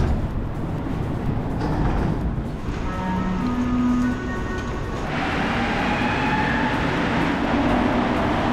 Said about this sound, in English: we catch a Green Line train that will take us down to de l'Église.